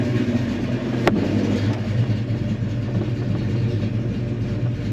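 Fox Body Mustang engine idling after a distributor install: a close, steady low rumble holding an even idle, with one sharp click early on and no talking.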